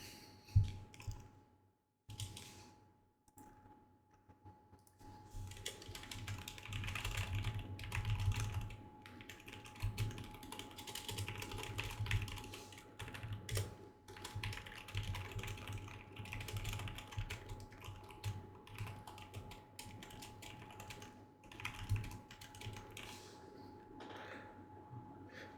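Quiet, close typing on a computer keyboard, with rapid irregular key clicks and brief pauses over a faint steady hum while writing code.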